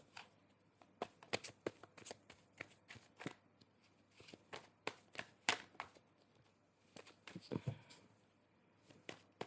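Tarot cards are shuffled for a card reading in a series of crisp, quiet riffling bursts at an irregular pace, heard close, with brief pauses between them and no talking.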